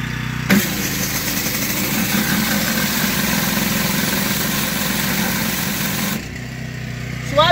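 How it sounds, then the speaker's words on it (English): A Whisper Wash Classic 19-inch surface cleaner runs with a wobble, giving a loud, steady engine-driven roar and vibrating drone that holds for about six seconds and then drops in level near the end. "my whisper wash classic suddenly started giving me a strange vibration or a wobble"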